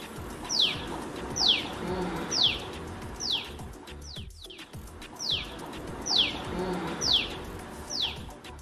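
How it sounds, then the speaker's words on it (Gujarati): A tailor bird calls repeatedly, sharp high descending notes evenly spaced about once a second, clear against a low outdoor background with no talk. "દરજીડો. જીવો. અંગ્રેજીમાં ટેલર બર્ડ."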